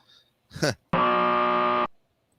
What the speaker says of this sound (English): Would you like a buzzer?